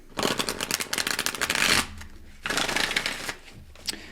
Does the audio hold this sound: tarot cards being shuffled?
yes